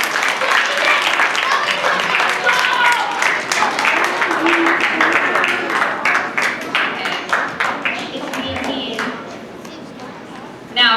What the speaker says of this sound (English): Give Ethan the biggest round of applause.